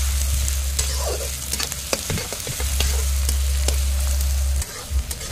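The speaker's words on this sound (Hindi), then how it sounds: "प्याज को थोड़ा भून लेते हैं।" Chopped onions fry and sizzle in a hot pan for a home-style chicken bhuna masala, with a steady crackle broken by stirring clinks and scrapes and a low background hum; no one speaks.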